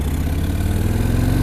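Harley-Davidson Fat Bob 114 motorcycle engine pulling hard under acceleration, a loud, close, deep rumbling drone that holds steady throughout, no talk.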